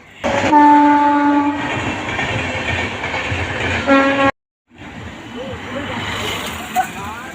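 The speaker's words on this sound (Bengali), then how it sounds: "ওই সামনে দিয়ে ট্রেন যাচ্ছে" A train passes on the line near Panchkura Junction, heard from a roadside walk. Loud, close horn blasts sound over rumbling wagons and clatter before an abrupt cut, then quieter outdoor ambience.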